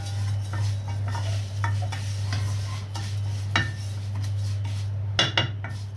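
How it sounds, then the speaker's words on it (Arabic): Vermicelli frying in ghee in a pot while being stirred, a steady sizzle under repeated scrapes and clinks of a utensil against the metal, close and fairly loud, with a low steady hum behind it. "وهنبدا ننزل عليها الشعريه"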